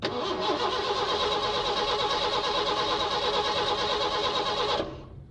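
A car engine turning over under a starter for nearly five seconds, loud and steady with a dense buzzing rattle throughout, then cutting off abruptly without catching.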